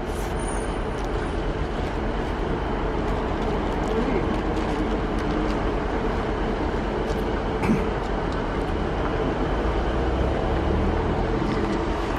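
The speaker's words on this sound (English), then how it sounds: "The train's on the way then, isn't it?" A train on a single-track rail line along the River Exe between Exmouth and Topsham rumbles past in a steady, continuous roar that holds nearly level from start to end.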